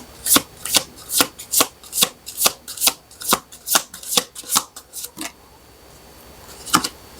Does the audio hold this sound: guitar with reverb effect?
no